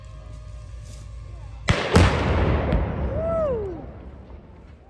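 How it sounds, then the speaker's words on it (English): A house blown up as a controlled demolition: one sharp, loud blast followed by a second crack and a long rumbling decay, heard at a distance, with people's voices nearby before and after. "Insert explosion here."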